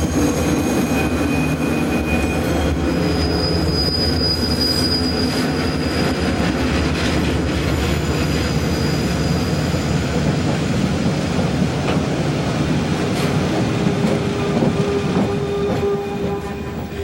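A diesel locomotive, a GP38-2, hauling an empty coal train rumbles past at close range for a long stretch, wheels clattering and squealing on the rails under a continuous heavy engine drone.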